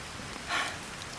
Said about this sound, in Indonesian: Bener-bener ditabrak sama hujan.